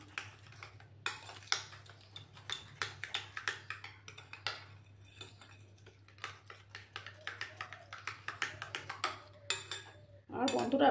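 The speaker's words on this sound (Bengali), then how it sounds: "চিনির সঙ্গে ডিমটাকে ভালো করে আমি ফেটিয়ে নেব।" Eggs beaten with sugar in a bowl for rice-flour biscuits: rapid, regular clinking of a utensil against the bowl, close and fairly quiet, continuing steadily before a brief rustling burst at the end.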